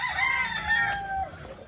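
A rooster crows nearby in a long, wavering call over a low background hum.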